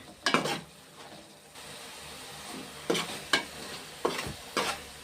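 Masala-coated fish frying in a pan gives a low background sizzle, broken by a few sharp scraping and clinking strokes of a utensil against the pan. The sounds are close but fairly quiet, and there is no talk.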